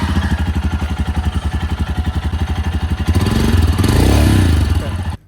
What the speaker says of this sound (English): That's a pretty good exhaust note for a factory exhaust system